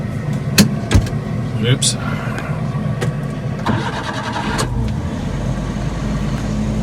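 A car engine runs as it drives slowly forward on a farm. It is a mid-pitched hum with a few clunks and knocks, and someone speaks briefly over it.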